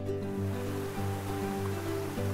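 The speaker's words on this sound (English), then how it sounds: "I'm situated right here at the base of one of our waterfalls" A waterfall at Sunset Falls roars in a steady, dense wash of rushing water, loud and close at its base, with no break through the whole stretch.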